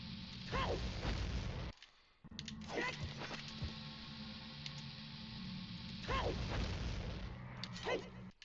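Repeated booms from bombs going off during bomb slide attempts in the video game Zelda: Ocarina of Time, with loud bursts recurring through the clip and a brief gap of near-silence midway.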